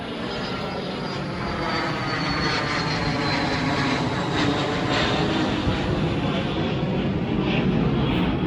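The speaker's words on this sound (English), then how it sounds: "Another plane." A loud, steady roar of an airplane engine passing overhead, droning continuously throughout without any talking.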